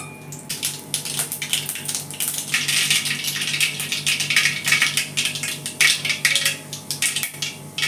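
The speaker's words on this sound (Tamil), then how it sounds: "ஒரு 1/2 ஸ்பூன் கடுகு சேர்த்துக்கிறேன்." Mustard seeds pop and crackle in hot oil while tempering for a drumstick coconut milk curry, a dense run of sharp little snaps, steady and fairly loud, with no voices.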